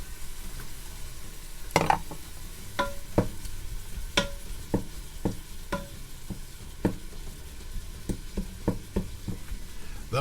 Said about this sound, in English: Now let's drop in half a cup of diced onion.